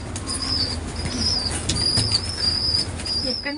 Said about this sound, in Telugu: పావురం మేడం.